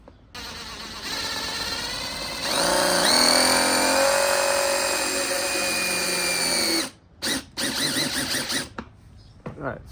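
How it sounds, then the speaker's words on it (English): Power drill boring a small hole into Mazda CX-5 interior trim, a steady high-pitched whine that rises in pitch and runs for several seconds before cutting out, followed by a few short bursts. "I have a drill bit here, drill with a drill bit"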